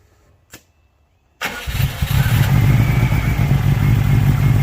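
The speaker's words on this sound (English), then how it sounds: "we're gonna start up this and gonna hear the Subaru turbo" A click and brief quiet, then a Subaru turbo engine in a 1976 Volkswagen Westfalia camper cranks and fires up loudly, settling into a steady, rumbling idle close by.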